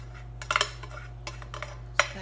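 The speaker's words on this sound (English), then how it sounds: "So I'm going to put that, the onion and the garbanzo beans that are mashed," A utensil scrapes and clinks against a pan while mashed onion and garbanzo beans are folded into pasta, with a few sharp metallic taps and scrapes in short bursts over a steady low hum.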